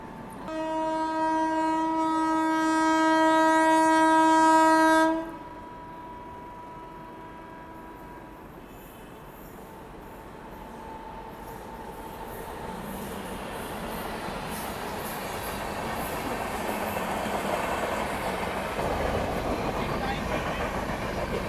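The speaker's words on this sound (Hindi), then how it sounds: "तो ये है अयोध्या एक्सप्रेस। बताओ भाई, ये ट्रेन हमें ओवरटेक करके चली गई।" An Ayodhya Express passenger train overtakes on an Indian railway line. A loud, steady horn blares for about five seconds, then the rolling rumble of passing carriages takes over and slowly swells.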